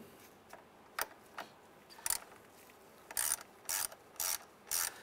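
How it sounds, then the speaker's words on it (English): A ratchet loosening the 10 mm negative battery terminal nut on a 2003-2011 Honda Element, several short bursts of quick clicking separated by pauses, close and crisp with no talking. "we don't need to fully take that nut off, we just need to get it loose enough so we can remove the terminal"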